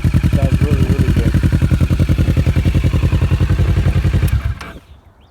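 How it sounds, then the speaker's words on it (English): A Kawasaki Ninja 650R twin-cylinder motorcycle exhaust burbles loud and close in a fast, even pulsing rhythm, then cuts off abruptly, leaving quiet background noise. "it's one of the nicest sounds you can find in a twin cylinder"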